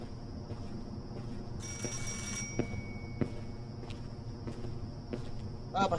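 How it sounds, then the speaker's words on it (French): A telephone rings in a Kyoto anomaly video game, its bright repeating bell tone sounding in bursts over low ambient game sound and soft footsteps. "le téléphone qui sonne"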